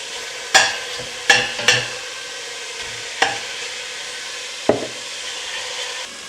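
Beef chunks sear in a very hot pan for Guinness stew, a steady sizzle broken by five or six sharp clacks of a utensil scraping and turning the meat, close and fairly loud with no talking.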